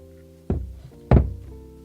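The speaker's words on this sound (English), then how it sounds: "Let me punch my holes." A hand hole punch goes through paper twice, each press a dull close thunk with a short clunk, spaced about half a second apart against a quiet room hum.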